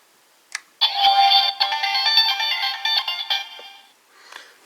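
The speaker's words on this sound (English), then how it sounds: "We'll get a confirmation sound," Power-on confirmation jingle from a Seiza Blaster toy, a Kyuranger henshin controller, sounding as a bright electronic melody of about three seconds, close and clear, with a faint click before it and nobody talking.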